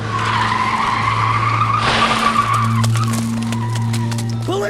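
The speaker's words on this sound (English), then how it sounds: "the night burst into flashing lights and piercing sirens as several patrol cars burst onto the scene" Police patrol cars arrive at a night scene in a futuristic city, with a loud tire skid and squeal over rising and falling wailing tones, engine noise and clattering debris, all close and continuous.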